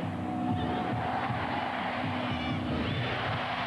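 A large stadium crowd at Stanford roars steadily through a 1999 Women's World Cup match between the USA and Brazil, a dense, continuous wash of cheering and babble at a fairly even level with no clear peaks.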